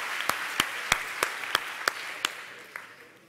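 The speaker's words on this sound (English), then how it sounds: "Give yourselves a big round of applause to yourselves, all the speakers, all the organizers, everyone." A conference audience at a lightning talks event claps briefly, with a few distinct sharp claps standing out over a soft spread of applause that thins and fades out.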